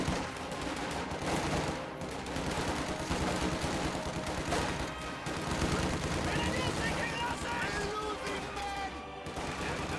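Rapid rifle gunfire crackles without pause through a battle in a strategy video game, with riflemen engaging amid a dense, loud wash of overlapping shots.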